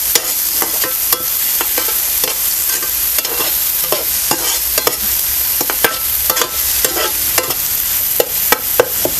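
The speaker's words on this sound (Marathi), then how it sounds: "कांदा सुद्धा आपल्याला चांगलं असं परतून घ्यायचं आहे." Finely chopped onion sautéing in a pan for a masala fish fry, a continuous loud sizzle broken by frequent sharp scrapes and clacks of a spatula stirring.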